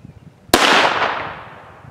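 A pistol fires a single 7.65 plastic practice round, one sharp, loud crack followed by a decaying echo in a quiet setting.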